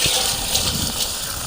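Water pours steadily into a vessel of unpolished red-soil toor dal set to soak, a continuous close gushing and splashing throughout the short moment.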